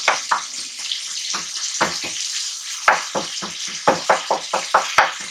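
A wooden spoon stirs chicken karahi in a nonstick pan over a steady sizzle of frying masala, with a series of distinct scraping strokes and soft knocks that quicken toward the end, close and loud.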